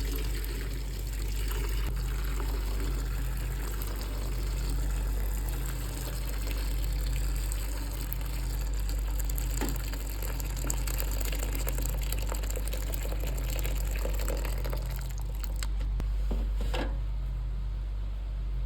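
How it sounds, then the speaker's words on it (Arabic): Boiling water pours in a continuous, steady trickling stream into an air fryer being cleaned, over a low background hum, close and moderately loud. "ونحط بقى ميه مغليه"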